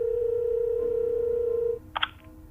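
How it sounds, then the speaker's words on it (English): A hotel room telephone gives a steady dial tone that cuts off, followed by a few short touch-tone beeps as a number is keyed in, close and clear with no talking. "With shaky fingers, I dialed the front desk from the room phone"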